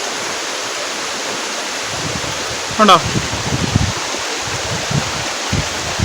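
Water rushes down between rock clusters at Adakode Chola waterfalls as a steady, dense roar that fills the scene, with a brief spoken word from a nearby voice partway through.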